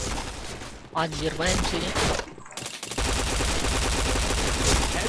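Rapid automatic gunfire in the first-person shooter Point Blank, loud dense bursts that run continuously through the latter half, with a brief pause and a voice talking over the shooting early on.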